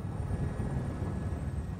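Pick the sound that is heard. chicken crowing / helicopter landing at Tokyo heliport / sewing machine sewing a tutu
helicopter landing at Tokyo heliport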